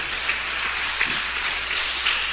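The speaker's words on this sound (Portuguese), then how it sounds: "Vamos aplaudir bem forte a Deus." A church congregation applauding during an afternoon service, a broad, even wash of many hands clapping that sounds somewhat distant and hall-like, holding steady throughout with no voices on top.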